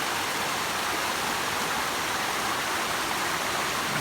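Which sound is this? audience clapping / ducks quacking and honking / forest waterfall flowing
forest waterfall flowing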